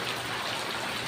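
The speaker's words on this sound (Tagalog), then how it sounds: "Ang ulan mga kapida." Steady rain falls close by in a continuous, dense hiss of drops on surfaces, with no talk.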